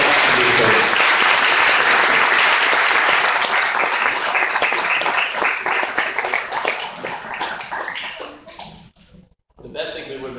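A dense, loud wash of audience applause at a neighborhood council meeting with the Los Angeles city controller, sustained for several seconds before thinning and dying out, with a voice returning at the very end.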